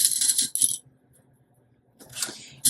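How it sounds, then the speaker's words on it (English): Sewing clips snap onto fabric with bright plastic clicks and rustles, in two bursts separated by a quiet pause, close and fairly crisp. "I'm just going to add a couple of clips"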